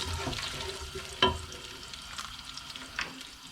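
Garlic and ginger sizzling in hot oil while being stirred, a steady frying hiss with a sharp scrape of the spoon, continuous and close with no talking.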